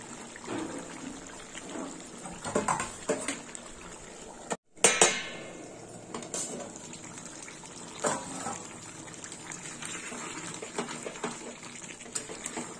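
Bottle gourd and fish head curry simmers in gravy with a steady wet bubbling, a brief clink and a short break partway through, with no talking.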